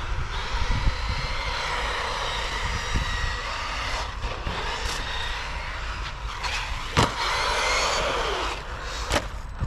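A Traxxas Maxx 4S RC car drives across a meadow and over a ramp, its electric motor giving a steady broadband whine with a few sharp knocks and bumps along the way, and no voices.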